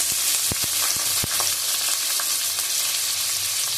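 Bay leaf, whole garam masala and onion crackle in hot oil in a pan, a loud continuous close sizzle with a few sharp clicks of a utensil near the start, no talking.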